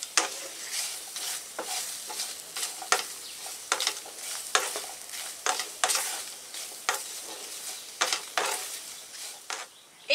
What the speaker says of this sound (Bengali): এবার আমি সজনে ডাঁটা তুলে দিচ্ছি।